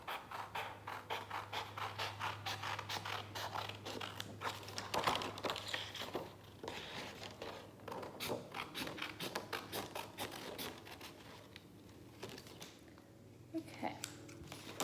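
Scissors cut a paper shape out for a toilet paper roll turkey craft, producing a close, rapid series of crisp snips and paper crinkles in an even rhythm.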